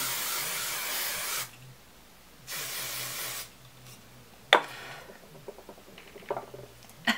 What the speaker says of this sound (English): I'm going to spray it some more